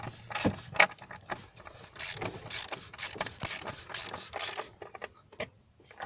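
A ratchet wrench clicks rapidly as the oil filter canister on a Ford Territory diesel is tightened, with busy, irregular bursts of close mechanical ratcheting and no talking.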